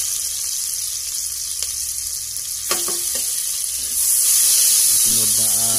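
Garlic and onion sautéing in a pan, a steady close hiss with a few brief clinks and a louder surge of sizzle near the end; a voice is briefly heard.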